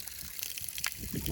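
Water pours from a garden tap into a small pond, a steady splashing gush with bubbly trickles, heard up close outdoors.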